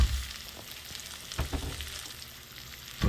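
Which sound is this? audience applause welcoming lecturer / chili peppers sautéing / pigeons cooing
chili peppers sautéing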